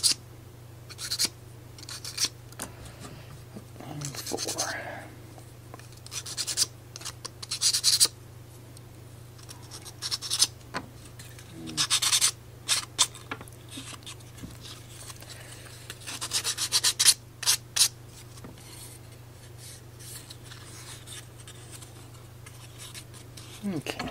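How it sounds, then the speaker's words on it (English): Light hand sanding of a small laser-cut wooden model part with sandpaper, intermittent scratchy rubbing strokes in short bursts close by, with a low steady hum underneath and brief pauses between passes. "It takes next to nothing to sand it down."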